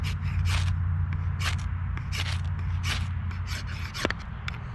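A knife spine scraping along a ferro fire-starter rod, producing a series of quick, close rasping strikes, one after another, over a steady low background hum.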